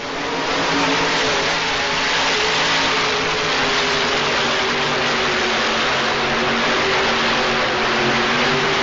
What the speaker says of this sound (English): This big Chrysler engine comes to life.